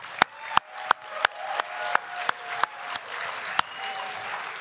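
Audience at a 2023 hometown media awards evening applauding the winners, with several sharp, spaced claps standing out over a steady wash of crowd clapping that holds throughout.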